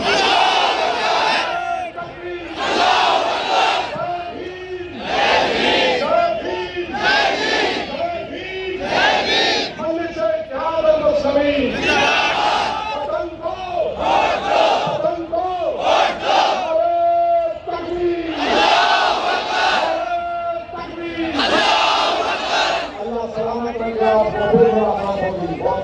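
A large crowd at an election rally at Aam Khas Maidan in Aurangabad chants and roars loudly in repeated surges, answering the Naara-e-Takbeer slogan call, sustained throughout with dense overlapping voices.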